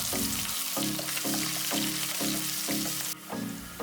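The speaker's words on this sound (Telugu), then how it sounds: "ఇదే ప్యాన్లో చిన్నగా కట్ చేసుకున్న ఆనియన్స్ వేసి లైట్ బ్రౌన్ కలర్ అయ్యే వరకు వెయిట్ చేయాలి" Finely chopped onions frying in a pan for a brinjal masala curry, a steady loud close sizzle with regular rhythmic stirring scrapes about every 0.6 seconds.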